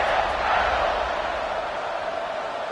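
Stadium crowd at a football game cheering during kickoff, a dense, steady roar of many voices held at a constant loud level throughout with no single voice standing out.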